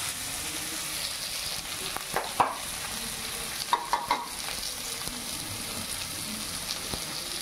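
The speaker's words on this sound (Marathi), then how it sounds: "ते बघा कांदा टाकलाय मी. कांद्याला असं शिजवून घ्यायचं." Onion sizzles softly in a pan under a steady frying hiss, with a few sharp clinks and scrapes of stirring scattered across the middle.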